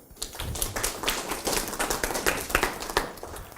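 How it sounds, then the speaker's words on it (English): An audience claps for a presenter at a social media lunch talk, a dense run of fairly close hand claps that rises quickly and continues steadily for several seconds. "take the other hand and clap for my associate here"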